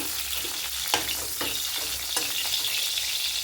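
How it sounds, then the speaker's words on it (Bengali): Pieces of pointed gourd sizzle and fry in a pan for a curry, a steady close crackling hiss with occasional stirring scrapes and no voices. "পটলটা ভাজা হতে হতে আমি এই যে নারকেল কোড়া নিয়েছি"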